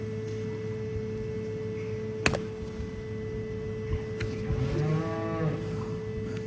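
A cow lets out one drawn-out moo during hoof trimming, after a sharp click nearby, all over a steady mechanical hum with no speech.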